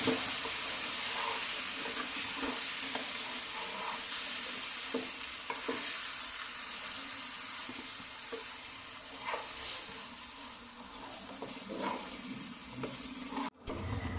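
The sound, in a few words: stirring fish pickle with vinegar in a pan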